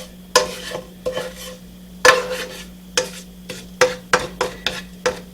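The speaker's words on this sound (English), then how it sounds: "Just supposed to stir that in with the oil." Peppers being stirred into oil in a pan on a stove, a series of sharp scraping clacks from a utensil against the pan about every half second, close and clear over a faint steady hum.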